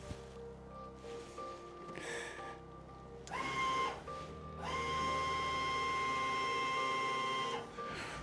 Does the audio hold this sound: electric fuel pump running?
yes